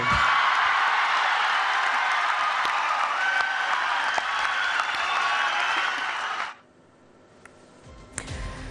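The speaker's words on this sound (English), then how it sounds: "He got the loudest cheer from his fans at the event" Fans at a crowded event roar and clap in a loud, sustained wall of cheering and applause for about six seconds, then it cuts off abruptly to near quiet with a few faint sounds.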